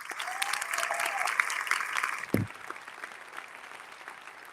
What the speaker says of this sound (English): Please join me in giving the Unity Reed High School Latin Rhythms Dance Club another round of applause